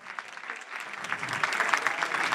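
An audience at a presentation evening breaks into applause as young performers walk in, the clapping starting thin and swelling to a dense, sustained roar of many hands.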